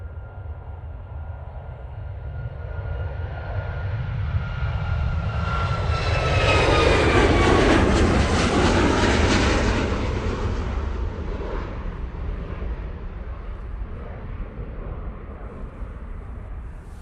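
Ryanair Boeing 737 Max jet taking off at Manchester Airport, a loud sustained engine roar that swells with a whining tone and then slowly fades as it passes into the distance.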